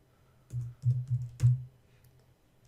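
A few soft, close keystrokes on a computer keyboard as JavaScript code is entered, a short cluster of taps followed by quiet.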